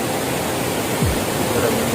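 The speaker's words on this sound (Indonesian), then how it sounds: "Dua air terjun ini mempunyai nama, yaitu Curug Cidengdeng dan Curug Cibundur" Curug Cidengdeng and Curug Cibundur, twin waterfalls on the Mount Gede trail, pour with a steady, broad rushing roar that fills the air evenly, with no voices.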